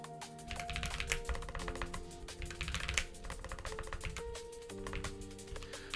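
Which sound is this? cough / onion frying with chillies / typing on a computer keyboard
typing on a computer keyboard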